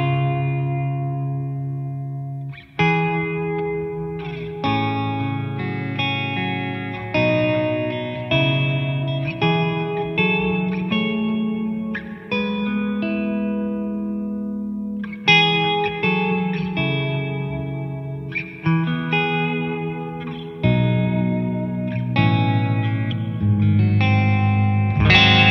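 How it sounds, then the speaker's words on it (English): A clean electric guitar, run through a TwoNotes Captor X with reverb added, plays chords and single notes in a melodic phrase, each note ringing out with a lush, lingering tail and no talking. "let's throw on some reverb"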